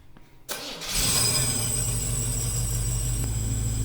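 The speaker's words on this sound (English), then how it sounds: "He's gonna start the car again." A supercharged TorqStorm-boosted Chevrolet Impala engine cranks briefly, catches and settles into a loud, steady idle with a high supercharger whine, close and without talk.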